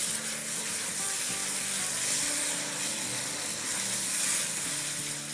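Chopped or ground tomatoes frying in fish curry masala in a pan, a steady close sizzle running unbroken throughout with faint stirring underneath.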